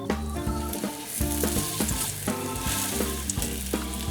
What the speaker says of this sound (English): I will just fry chicken till it's nice and gold